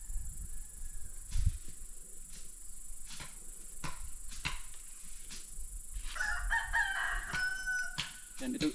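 Roosters crowing on a Philippine farm where coconut palms are being planted, several drawn-out cock-a-doodle-doo calls at moderate distance, with scattered clucks and light background noise.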